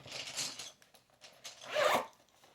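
A small bag taken from inside a piece of luggage is zipped in two quick pulls, close and clear, with a brief pause between.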